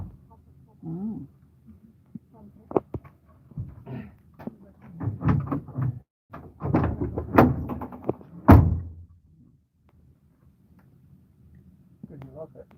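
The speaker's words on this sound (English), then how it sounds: "try that door again" A car door is opened and shut several times, giving sharp thumps and latch clacks, one loud slam near the middle, amid shuffling and handling noise with a person speaking briefly nearby.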